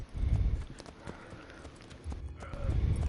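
Horse hooves gallop in Assassin's Creed Brotherhood, a fast clip-clop that pounds loudly at the start, eases through the middle and surges again near the end.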